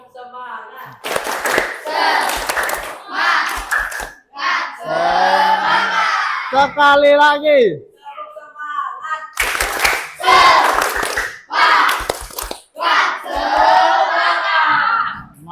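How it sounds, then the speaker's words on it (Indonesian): A primary school class chants together while hands clap in quick rhythmic patterns, several rounds in a row, loud and close. "Sebelum bikin kelompok kita tepuk semangat dulu."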